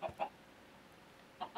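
Minecraft chicken in the video game: two short clucks close together, a pause of quiet background, then two more clucks, clear and close with nothing else over them.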